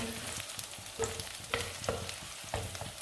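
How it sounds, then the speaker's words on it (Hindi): Green chillies frying in a pan, a steady close sizzle broken by occasional stirring scrapes and clicks, with no voices. "हरी मिर्च शामिल करेंगे, इसको भी भून लेंगे।"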